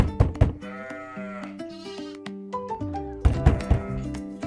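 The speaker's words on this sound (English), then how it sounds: "I hear a sheep." Farm sheep bleat several times in quavering calls, some overlapping, set against a bright melodic music backing with no spoken voices.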